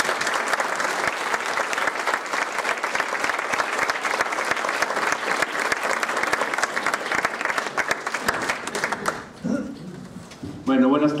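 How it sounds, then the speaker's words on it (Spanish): Sustained, vigorous audience applause greeting chef Antonio Márquez Melgar at a cooking talk, dense and steady for about nine seconds before fading as a voice begins speaking. "¿qué les parece si recibimos al chef Toño con un fuerte aplauso?"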